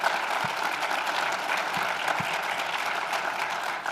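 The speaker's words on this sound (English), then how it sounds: "Steve, Bill, round of applause." Steady applause from a conference crowd in Las Vegas fills the whole stretch, dense clapping at an even level with no speech over it.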